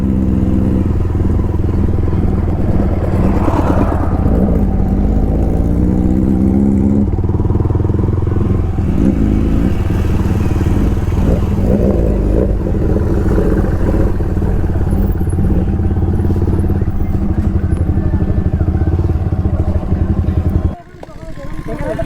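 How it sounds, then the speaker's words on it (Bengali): A Kawasaki Ninja ZX-10R superbike, running hot on a slow road, gives a loud, steady engine drone close by for about twenty seconds before cutting off abruptly, with people talking over it. "গাড়িতে আওয়াজ হচ্ছে দেখছো ভাই, গাড়ি হিট হয়ে গেছে।"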